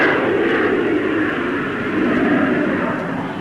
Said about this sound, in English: Coming into land, the nose is lowered. And once again, parachutes slow down the landing run.